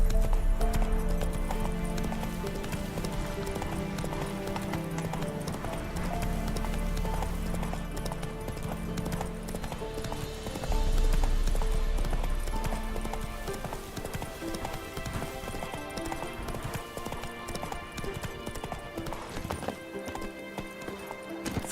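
A horse gallops in The Witcher 3, its rapid clip-clop hoofbeats running steadily and loud throughout, with a brief whinny and light ambient game sound behind, and a voice speaking briefly.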